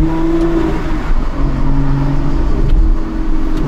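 Aston Martin V12 Vantage S with its V12 engine pulling in third gear, a steady loud drone with rising harmonic tones as it accelerates, heard from inside the car with no talk.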